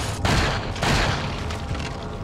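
Heavy, booming magnum gunshots in Resident Evil 4, a couple of loud blasts with reverberant tails filling the whole stretch, no talking.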